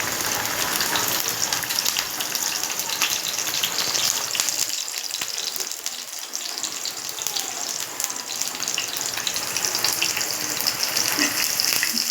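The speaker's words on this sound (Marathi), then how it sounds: "हे असं चांगलं लाल होईपर्यंत परतायचं" Garlic and curry leaves frying in hot oil in a pan, a loud, dense, hissing sizzle that holds steady throughout, dipping slightly midway, close and with no voices.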